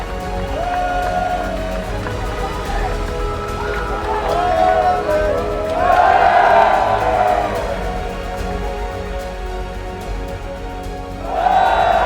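A home crowd in an esports arena cheers at the DreamHack Open Valencia 2018 grand final, a roaring wash that swells twice with whistles and shouts while a commentator talks over it.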